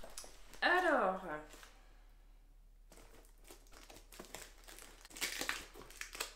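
A parcel from a Vinted clothing haul is opened with crinkling plastic packaging and tearing tape close by, mostly in a burst toward the end, while someone speaks at the start.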